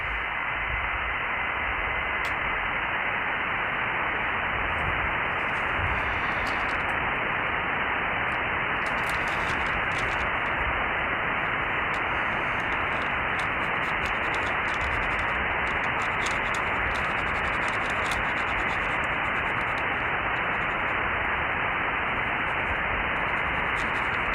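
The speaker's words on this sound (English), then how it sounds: "let's listen to some 2-meter sideband here" Steady hiss of static fills the receiver of an Icom IC-9700 radio tuned to 2-meter upper sideband near 144.250 MHz, flat band-limited white noise that runs unbroken and fairly loud with no voices.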